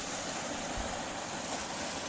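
A steady, dense rush of water from a waterfall partly covered by ice and snow in cold weather, heard close and loud without a break.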